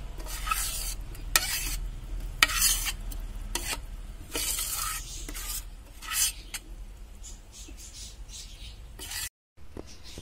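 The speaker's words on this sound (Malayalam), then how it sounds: "ഞാൻ മാവ് ഫുള്ളായിട്ട് ഇതിലോട്ട് ഒഴിച്ചു കൊടുത്തിട്ടുണ്ട്." Rice batter for kalthappam (Pesaha appam) hitting hot coconut oil in a pan, giving a steady close sizzle with bursts of scraping and stirring, then cutting out abruptly near the end.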